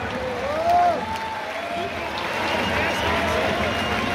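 A football stadium crowd at an SK Sturm Graz Bundesliga match against Altach applauds a substituted player, steady broad clapping and crowd noise filling the stands, with an announcer's voice briefly over the top early on.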